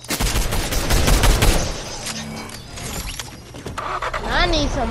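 Video game gunfire in a chaotic match, loud rapid bursts of shots up front that thin into scattered mechanical clicks and clatter, with a voice speaking over part of it.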